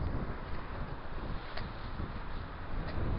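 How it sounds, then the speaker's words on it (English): Strong wind buffeting a sheer coastal cliff edge in Scotland, a steady broadband roar with gusty swells throughout, close to the microphone and alone. "the wind's blowing so strong here"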